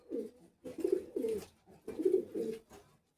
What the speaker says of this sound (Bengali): এগুলো আমার সব ফ্লাইং এর কবুতর।